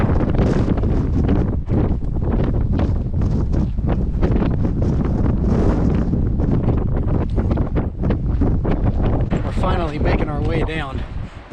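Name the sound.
strong wind on desert trail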